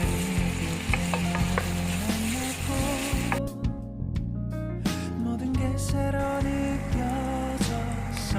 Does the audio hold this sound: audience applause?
no